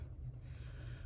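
White Prismacolor wax pencil scratching over paper edges in a steady, close, continuous scribble with no talk.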